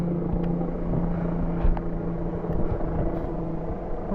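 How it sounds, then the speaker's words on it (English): A helicopter somewhere nearby on a bike trip by a big pond, heard as a steady low rotor rumble that holds through the whole stretch, fairly loud and even, with no talking over it. "Guys, there's a helicopter somewhere."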